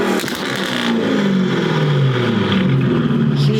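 A twin-turbo Ferrari F12 with major upgrades revs loudly and close by, its engine note climbing and falling in a sustained, continuous roar with no talk over it.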